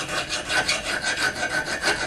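A coarse metal file rasps steadily across wood in repeated back-and-forth strokes, close and fairly loud, with no voices.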